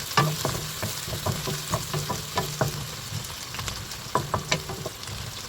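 Ginger, onion and garlic fry in Australian butter with a soft, steady sizzle. A utensil stirs them in repeated light scrapes and taps against the pan, with no talk.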